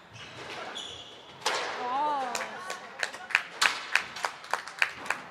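Brief clapping breaks out after a women's masters semifinal at a squash tournament, sounding as a run of sharp, fairly close claps near the end. Voices talk over the start and a rising tone sweeps through beneath.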